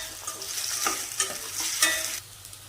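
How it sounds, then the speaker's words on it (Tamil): Shallots sautéing with a pinch of salt in a pan for a spinach and dal dish, a steady close sizzle with scraping stir strokes and small crackling bursts, no voices. "வெங்காயம் வதங்கிறதுக்கு கொஞ்சமாக உப்பு சேர்த்து வதக்கிக்கோங்க"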